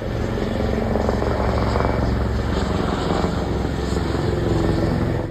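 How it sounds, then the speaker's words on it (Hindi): A helicopter's steady rotor drone dominates, loud and continuous, as if passing overhead without letting up. "हेलीकॉप्टर के राउंड लग रहे थे ऊपर से"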